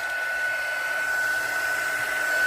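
A heat gun blows hot air to dry ceramic resin, a close, steady, loud whooshing hum with a thin whine that holds evenly throughout with no one speaking.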